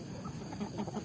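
Free-range kampung chickens cluck softly in a short burst of low, repeated clucks, faint and close, with no voices.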